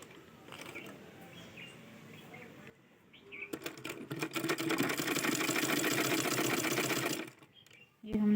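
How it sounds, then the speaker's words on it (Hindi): A sewing machine stitches a readymade blouse, starting with a faint, brief run, then pausing, then a loud, close burst of rapid needle chatter lasting several seconds before stopping, with a soft voice in the quieter stretches. "हमने इस तरह से मोड़ लिए और सिलाई लगाना है"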